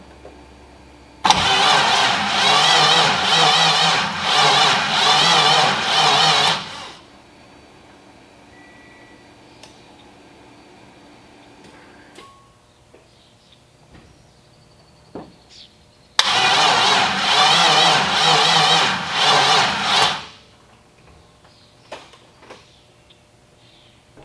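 A twin-turbo LS-swapped car engine cranks twice without firing, each attempt a loud rhythmic churning burst of about five seconds, separated by a long quiet pause with faint clicks.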